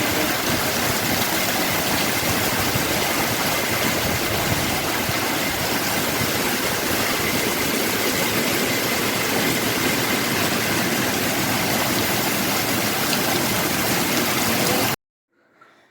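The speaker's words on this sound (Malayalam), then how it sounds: "എന്തൊരു ശക്തമാണ് മഴയെന്ന് നോക്കിക്കേ" Heavy rain driven by strong wind roars in a loud, dense, unbroken wash close by for about fifteen seconds, then cuts off abruptly to near silence.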